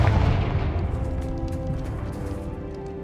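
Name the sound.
Confringo fire-blast spell exploding in video game Hogwarts Legacy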